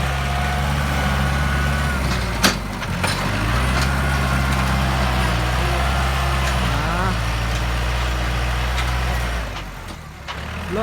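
A Kubota L5018 tractor pushing soil runs with a steady low diesel drone close by, holding constant throughout with a brief clank and a dip near the end.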